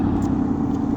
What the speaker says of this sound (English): all these loud cars keep driving by now